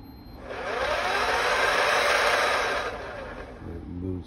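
ME0909 electric motor driven by a Kelly controller on battery power with a twist throttle, spinning up into a steady close whir that swells, holds, then eases off near the end.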